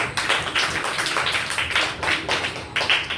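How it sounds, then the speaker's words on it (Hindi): Children clapping together in a government primary school classroom in Uttar Pradesh, a steady run of close, crisp claps for about three seconds with a quick even rhythm and no talking. "ताली बजा दो"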